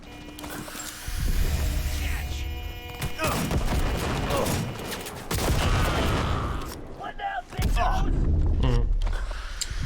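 Shotgun blasts ring out in the video game Cyberpunk 2077: heavy, loud bursts of gunfire repeat in bunches over a rumbling game soundscape, with brief talk in between.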